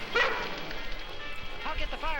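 A cartoon dog from a 1973 animated rescue series barks near a fire, short yips mixed under continuous talking voices.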